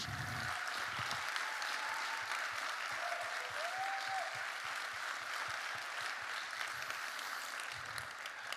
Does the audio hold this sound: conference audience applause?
yes